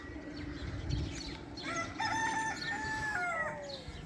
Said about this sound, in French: il y a des poules juste là